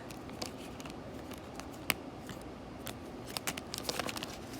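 Trading card packs being shuffled and mixed together by hand, a soft run of crinkly rustles and light taps with no talk.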